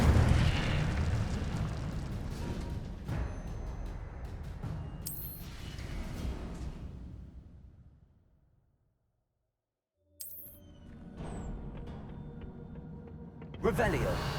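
Incendio fire spell cast in the video game Hogwarts Legacy, heavy whooshing bursts and booming roars that fade to near silence, then a fresh burst and sharp crackles return near the end.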